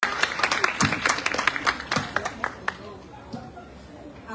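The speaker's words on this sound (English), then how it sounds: "Please give a round of applause" Audience at a national schools arts festival drama event claps in a burst of distinct, uneven hand claps that thins out toward the end, with voices murmuring underneath.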